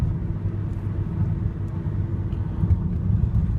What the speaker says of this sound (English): It's a very quiet car.